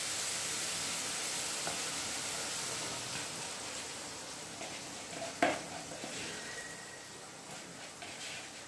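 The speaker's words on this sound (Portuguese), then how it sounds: "Mexendo sempre, que é para não ganhar grumos." Flour mixture being stirred steadily into a sizzling refogado in a pan, a constant hissing fry with soft scraping of the spoon and a few small clinks, no talking.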